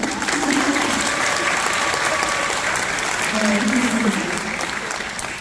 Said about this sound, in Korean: 박수 크게 주세요